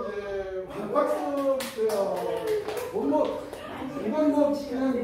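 A small audience claps at a parenting education session on school violence prevention, scattered sharp claps over a few seconds mixed with voices talking and laughing nearby.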